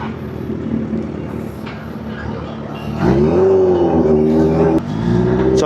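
A big bike motorcycle engine idling with a low rumble, then revving up sharply to a loud, steady drone held for a couple of seconds before easing slightly, close by.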